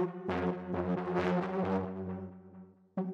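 A heavy distorted techno synth tone pushed through an amp and saturator drones with gritty, buzzing harmonics and shifting pulses, then cuts off briefly before a sharp restart.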